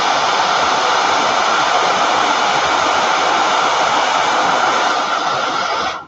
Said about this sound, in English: All right, so I need to heat set it again too.